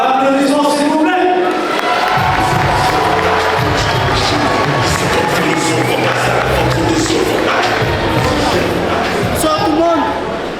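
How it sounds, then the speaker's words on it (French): An audience at an MMA event in Nikaia cheers and applauds loudly and steadily, a dense roar of the crowd with voices mixed in throughout. "Applaudissements s'il vous plaît."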